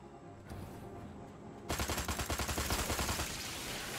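Rapid automatic gunfire from weapons in the video game Destroy All Humans, starting abruptly after a quieter stretch and hammering in a dense, loud burst of repeated shots that fills the rest of the moment.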